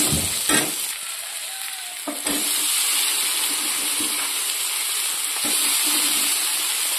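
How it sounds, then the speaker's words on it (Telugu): Brinjal pieces drop into hot oil in a pan of curry with curry leaves and tomato, setting off a loud steady sizzle broken by a few stirring scrapes and clatters. "వంకాయలు వేస్తున్నాను అన్నమాట."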